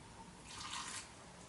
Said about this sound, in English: And I might just put a little bit of water in this as well.